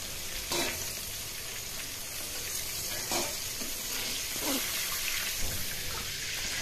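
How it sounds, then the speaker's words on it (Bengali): Pointed gourd (potol) pieces frying in hot oil until well reddened, a steady close sizzle running throughout with a few brief stirring bursts and no talk. "মানে আমি পটলটাকে একটু বেশ লাল করেই ভাজতে চাইছি"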